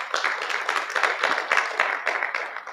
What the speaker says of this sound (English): a round of applause to themselves